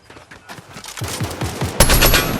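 Gunfire in a video game: rapid bursts of automatic shots that grow louder and denser, then a heavy, loud volley near the end, all with no talk.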